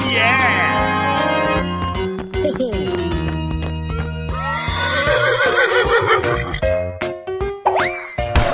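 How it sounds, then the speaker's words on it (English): Cartoon horse whinnies with wavering high pitch over bouncy, loud cartoon music full of boings, dings and plops, with a short clip-clop of hooves in the mix, close and busy throughout. "Horse."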